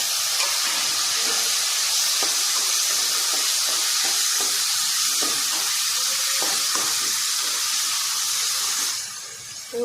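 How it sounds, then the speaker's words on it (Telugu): Tomatoes sizzle and hiss steadily in a hot pan while being cooked down for tomato rice, with scattered light stirring ticks; the loud frying continues throughout and eases slightly at the very end. "ఆల్మోస్ట్ మన టమాటోస్ కూడా ఫ్రై అయిపోయాయి"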